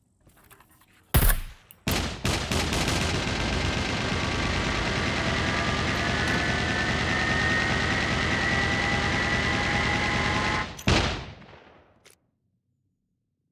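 In the SCUM game, a machine gun fires at a mech in a long, loud, unbroken burst of rapid shots lasting about nine seconds, opening with a few separate blasts and ending with a final heavy report before silence.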